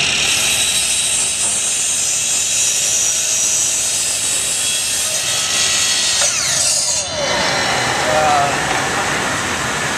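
A power saw whines steadily through wood while working on a hot rod school bus, loud and close, then winds down and stops near the end as the pitch shifts.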